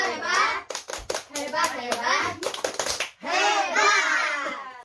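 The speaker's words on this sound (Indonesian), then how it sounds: "kita tepuk hebat sekali lagi Bu Ibu ya" A group of women joins in a rhythmic 'tepuk hebat' clapping cheer during a pregnancy nutrition session, short patterned claps mixed with chanted voices and someone speaking close by.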